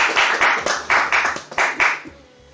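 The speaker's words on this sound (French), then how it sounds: "On acclame le Seigneur, Amen." A congregation at a wedding claps in steady rhythmic unison, about eight bright, close hand-claps keeping a regular beat before fading out.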